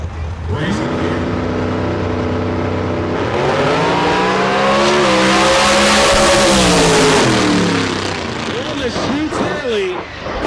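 At a drag strip hosting Top Fuel nitro racing, a loud, close racing car engine holds a steady roar, then revs up and falls back in a rising and dipping whine, while a voice talks over it.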